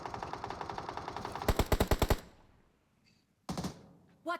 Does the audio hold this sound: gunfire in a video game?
yes